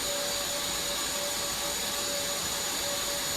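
An industrial vacuum cleaner, the BJC1923, suctions up fine powder with a steady, loud, broadband roar and a constant high whine throughout, with no talk.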